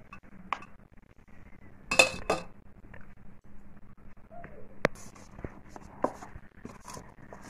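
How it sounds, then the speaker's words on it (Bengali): Dried fruits are mixed into flour in a bowl, making quiet, sparse clinks and taps of a utensil against the bowl with soft scraping between them, nearby and without talk. "এরপরে এর মধ্যে ময়দার মধ্যে দিয়ে এগুলোকে ভালো করে মিশিয়ে নেব।"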